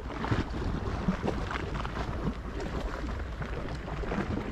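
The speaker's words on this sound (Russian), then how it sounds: "Послушайте плеск воды" Small waves lap and splash gently against the shore at Frombork on a calm, windless day, a steady, close wash of water with soft rustling and a few brief louder splashes, no voices.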